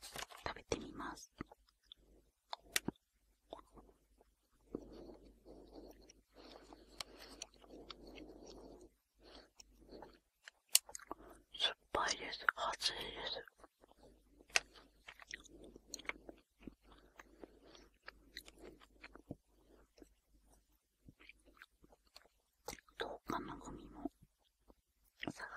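Close, soft chewing and crunching of Japanese DIY candy, recorded as ASMR, comes in irregular bursts alongside faint whispering and occasional small clicks.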